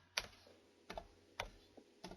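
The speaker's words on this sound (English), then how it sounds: "typing away" Typing on a computer keyboard: four sparse, quiet key clicks spaced unevenly, faint and close, with no speech.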